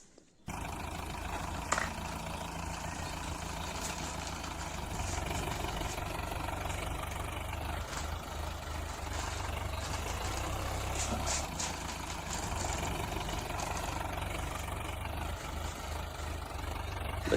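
A toy tractor, red with a yellow trolley loaded with marbles, rumbles steadily like an idling truck engine for the whole stretch, near and fairly loud, with a brief knock near the start and no talking.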